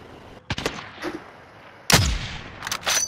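Gunfire in a video game rings out in sharp separate bursts, a few single shots and short volleys, loud and close with quiet gaps between them.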